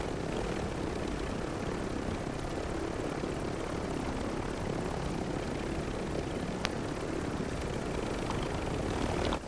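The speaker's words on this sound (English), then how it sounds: "I'm gonna grab this other helicopter." A helicopter in a battle royale video game gives a steady, droning rotor and engine roar that stays even and unbroken, with no talking over it.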